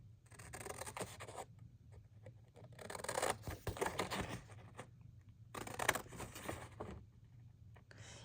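Scissors trim paper around a book-page pocket in three separate bursts of close, crisp cutting and rustling, with quiet pauses between them.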